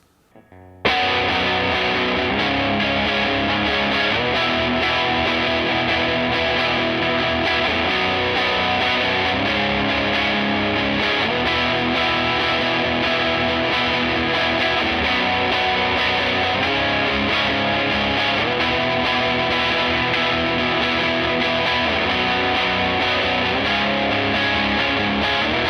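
Distorted electric guitar, a Gibson Les Paul Modern Lite run through a drive pedal, plays steadily and loud for about 25 seconds with dense sustained chords and no talking.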